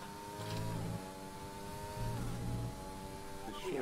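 Race car engine in a racing video game, a steady mid-pitched drone that holds, dips and rises again with shifting revs, playing continuously at a moderate level.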